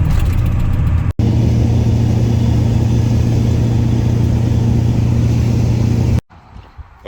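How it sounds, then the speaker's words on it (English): Ford F250 pickup engine running while the truck keeps popping in and out of gear: a loud, steady mid-pitched drone that drops out briefly once, then resumes and cuts off abruptly near the end. "here's the truck wanting to pop in and out of gear"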